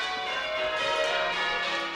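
Big church bells peal in the Christchurch bell tower, a loud, close wash of overlapping metallic rings with long sustained tones that fill the whole stretch, with no voices.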